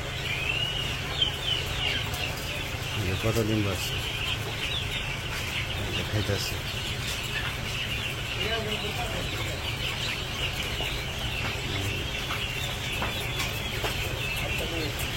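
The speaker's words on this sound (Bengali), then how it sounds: "কোয়েল পাখি" Caged quail on a village farm call and cluck softly while eating, a busy low chatter under a steady hum, with a person speaking briefly.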